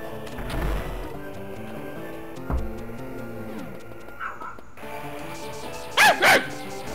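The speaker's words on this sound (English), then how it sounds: "I heard a dog." A dog barks a few times in the background while a Metroid Zero Mission game plays: short sharp barks near the end over steady game music and electronic tones.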